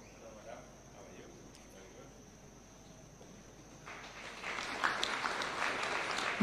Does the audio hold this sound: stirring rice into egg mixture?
no